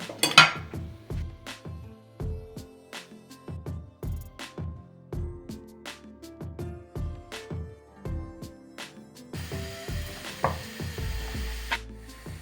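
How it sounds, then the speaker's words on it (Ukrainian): Carrots being grated on the coarse side of a grater: a run of distinct rhythmic rasping strokes, each with a metallic edge, near and fairly loud, turning into a denser, busier scrape toward the end, with no speech. "Натираємо моркву на грубі терці."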